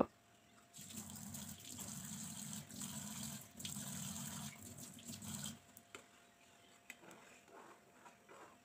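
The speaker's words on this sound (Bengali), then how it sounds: "দেখেন চিনিটা খুব ভালোভাবে গলে গিয়েছে, চিনির মধ্যে বলক চলে আসছে।" Sugar syrup boiling in a pan, giving a faint, steady bubbling hiss that runs for several seconds and then drops away, leaving a quiet background with a few small pops.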